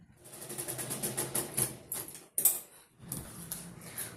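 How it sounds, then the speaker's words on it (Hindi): A sewing machine stitches a frill onto a boho tote bag, running in quick rhythmic bursts of needle clatter separated by short pauses, close and moderately loud. "और अब इस फ्रिल को हमें यहाँ पे इस पीस पे सिल देना है एक तरफ से"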